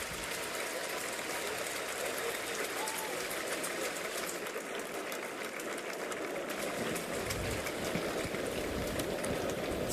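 Baseball stadium crowd applauding an injured catcher at a Rockies versus Yankees game, a steady broad wash of clapping filling the whole stretch at a constant level, with no clear voices over it.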